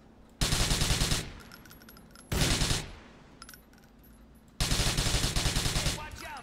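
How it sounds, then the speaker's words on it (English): Three bursts of rapid automatic gunfire in Grand Theft Auto 4, each lasting about a second, loud and close, separated by brief lulls carrying quieter game sounds. "Just stop shooting me."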